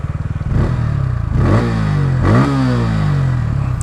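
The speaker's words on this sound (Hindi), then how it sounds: "Exhaust sound is very बूमी।" A 2025 Bajaj Pulsar N160 single-cylinder motorcycle revs hard through its exhaust: a loud, close, booming engine note that rises in several quick blips, alone with no talk.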